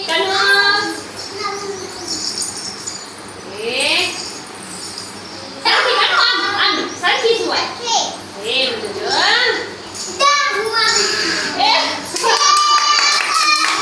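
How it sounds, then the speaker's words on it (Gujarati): Children clap for a classmate named Kanakshri in a classroom, with scattered bursts of hand claps mixed into lively children's chatter and voices throughout. "તાળી પાડો કનકશ્રી માટે."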